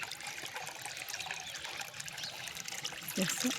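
Water rushes steadily into a bucket being filled from a household supply, a continuous close splashing hiss with no breaks.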